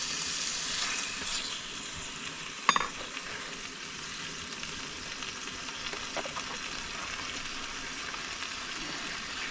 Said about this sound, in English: we're just gonna be stirring up bacon meats in this thing